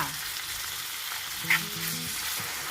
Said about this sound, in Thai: พอน้ำมันร้อนแล้วก็ใส่เนื้อลงไปผัดค่ะ